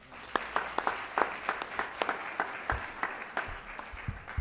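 An audience applauds at a Black History Month honoree ceremony in a church, scattered clapping with sharp individual claps standing out, moderately loud and continuous throughout, with no voices over it.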